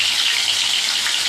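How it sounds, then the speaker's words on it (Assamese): Fish fries in hot oil with a dense, steady crackling hiss, close and fairly loud, with no pauses for the whole short moment. "চনচননি আৱাজ উঠি গ'ল মাছৰ।"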